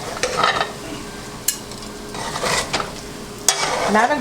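A spoon folds cooked white rice in a pot, giving soft scraping swishes with a few sharp clinks against the metal at an irregular pace, close and fairly loud.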